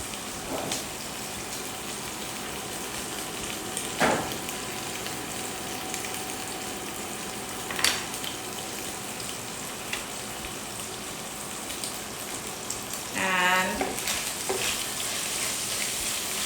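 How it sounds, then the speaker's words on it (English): Pieces of pork brown in a hot pot, giving off a steady, fairly quiet sizzle. Occasional sharp clicks and a short rattling burst come near the end. "So you just want to put it in the pot, spread it out, leave it alone for a little bit to get some color"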